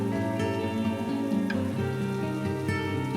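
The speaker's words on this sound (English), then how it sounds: "Vivian agreed, and they both ran, soaking in the rain, to get into Luke's car" Heavy rain pours down steadily with a backing of tonal music, a constant wash of falling water running the whole way through with no voices.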